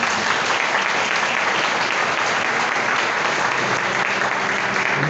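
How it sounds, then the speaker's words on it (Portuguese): A church congregation claps loudly and steadily for the whole five seconds, a dense and sustained wash of applause with no break. "Dê um forte aplauso ao Senhor"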